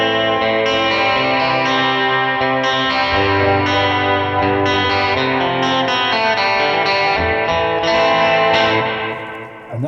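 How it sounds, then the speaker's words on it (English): Electric guitar through a Headrush Gigboard multi-effects unit with a modulated delay, played as an atmospheric intro. Shimmering chorused notes smear into repeating echoes, forming a loud, continuous wash with no talking. "I can add a modded delay for some sort of atmospheric-y kind of intros we do."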